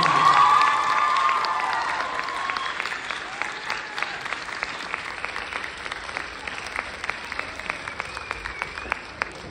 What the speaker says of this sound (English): Round of applause for seniors.